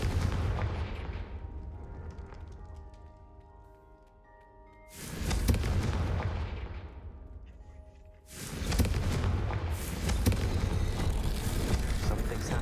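Deep booming blasts of a Confringo blasting spell in a wizard video game, one long rumbling explosion followed by two more loud roaring bursts that decay slowly, close and heavy.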